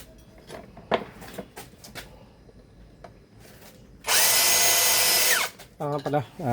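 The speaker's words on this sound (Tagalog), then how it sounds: "Yung step drill na yung ginamit ko hanggang dito sa 8mm ata to." A step drill bores an 8mm hole in a step board for a Nissan Navara D40, a loud, steady whine for about a second and a half, amid quieter handling noises and brief talk.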